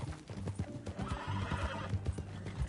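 A horse in the video game Red Dead Redemption 2 clip-clops along with steady hoofbeats and lets out a drawn-out neigh in the middle, close and clear over a low background.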